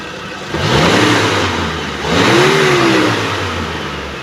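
A 2014 Mitsubishi T120ss pickup engine with about 60,000 km revs hard twice, each climb rising in pitch and then easing off, loud and close with no talking.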